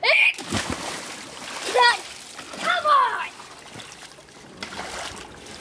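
Splashes of a person jumping into cold water outdoors; a few splashing and dribbling bursts of moderate loudness, with voices talking and calling over them.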